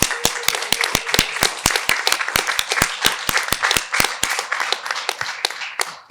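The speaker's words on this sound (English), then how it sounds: "Let's give another round of applause to our speakers." Audience applause for the speakers at a media literacy panel on misinformation: a handful of close, sharp hand claps in a quick, uneven rhythm, loud and dry, ending after about six seconds.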